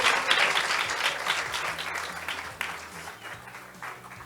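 Audience applause at a pharmaceutical industry forum for young people, a burst of dense clapping that gradually thins and fades, with faint voices underneath.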